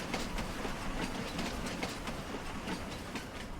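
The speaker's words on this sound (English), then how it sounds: "It sounds like a real train, not like an electric train." A steam train rolls along in a US Flatlands video game, a dense continuous rumble with rhythmic clickety-clack of wheels on rails, steady and moderately close with no talking.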